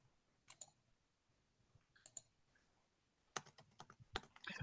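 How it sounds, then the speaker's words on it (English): Keys clacking on a computer keyboard in a robotics classroom, scattered bursts of quick clicks that grow denser and louder toward the end, no talking. "Let me finish typing this"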